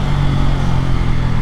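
Kawasaki Pulsar N250 250cc motorcycle being ridden, its engine holding a steady, loud, close drone with a continuous low hum throughout.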